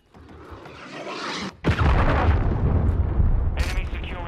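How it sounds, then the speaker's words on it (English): A cruise missile explosion in the Call of Duty Modern Warfare 2 beta: a deep, loud boom erupts after a short lull and rolls into a sustained rumbling roar with debris noise, followed by a brief high hiss near the end. "Friendly cruise missile deployed."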